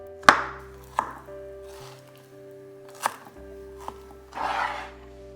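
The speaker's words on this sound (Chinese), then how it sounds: "芒果去皮切成小块，如果做表面装饰，可以切大块一点。" Knife chopping peeled mango into small pieces for a mango roll cake, giving several distinct close cutting thuds on a board spaced about a second apart, with a softer squishy stroke at the end.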